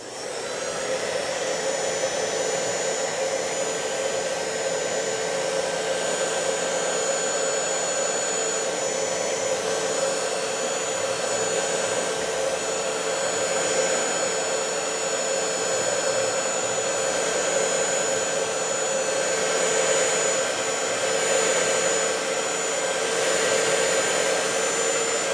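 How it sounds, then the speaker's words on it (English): Steady loud whooshing roar of a heat gun or hair dryer warming adhesive mount material for a GoPro mount, continuous and unchanging throughout with a faint whine on top. "get your heat gun or hair dryer, and then just kind of heat the material up a little bit."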